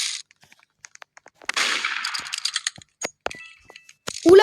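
Gunshots in the Roblox game Murder Mystery 2, a scatter of short sharp cracks and clicks followed by a longer noisy burst, with scattered game sounds around them.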